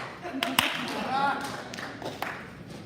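A few isolated sharp claps sound at a Rotary club meeting, one distinct near clap standing out among faint taps, while people murmur and talk quietly in the room.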